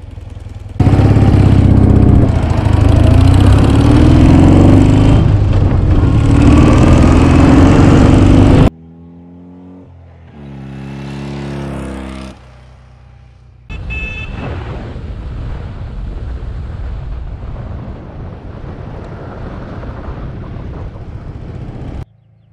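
A 1965 BMW R50/2 motorcycle engine of 26 horsepower runs loud and close for about eight seconds, then drops to a quieter idle with shifting tones and a steady running drone.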